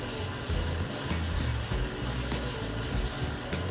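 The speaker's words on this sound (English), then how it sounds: "I'm going to grease up little ramekins" Grease sprayed into small ramekins for beef-fat soufflés in a restaurant kitchen, a steady close hiss in several short bursts with brief gaps, heard alone.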